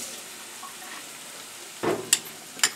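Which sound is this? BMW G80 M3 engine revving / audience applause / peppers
peppers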